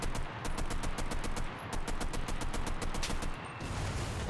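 Gunfire in the World War II shooter Enlisted, sustained rapid automatic bursts rattling on with a brief gap near the end, loud and dense, with no voices.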